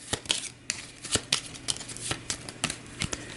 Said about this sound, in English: let's grab the turn order deck, turn order discard pile, make it into a new deck. We'll give this a shuffle